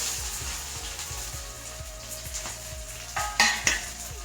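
Chopped small shallots frying in hot coconut oil in an iron pan for a dried prawn curry, giving a steady sizzle with clinking and scraping as a utensil stirs against the pan.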